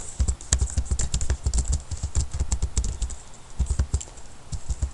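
Rapid, steady typing on a computer keyboard while entering install commands into a terminal, with dense clicky keystrokes sounding close and fairly loud, no voices.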